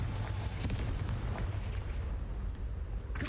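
A Confringo fire spell explodes in a Harry Potter video game, with a deep booming rumble that rolls on steadily and sharp bursts near the start and end.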